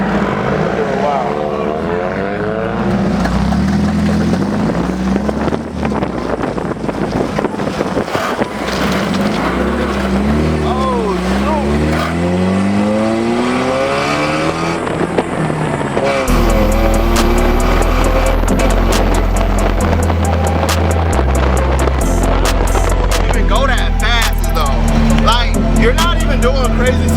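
A lowered Mazda Miata drives with its tires rubbing on the fenders, the engine and road roar loud and constant while people talk over it throughout.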